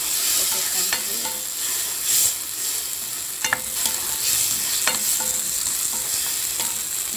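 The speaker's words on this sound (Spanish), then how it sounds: "Dejamos que se escuche bien los vegetales que se están bien." Vegetables for a tomato sauce for beef meatballs sizzle steadily in a hot pan, a continuous crackling hiss with occasional stirring scrapes and clinks, close and fairly loud, with no talking.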